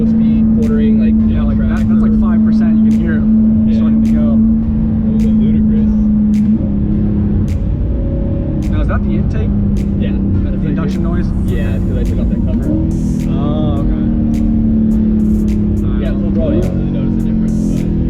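A 2020 C8 Corvette's engine hums steadily in the cabin, a sustained drone that starts to climb as the car accelerates from low speed, with people talking over it throughout.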